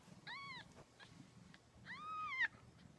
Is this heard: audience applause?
no